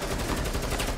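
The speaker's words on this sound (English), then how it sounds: "Shotgun." Rapid shotgun blasts in Rainbow Six Siege form a dense, continuous barrage of overlapping shots across the whole second, loud and close with no break.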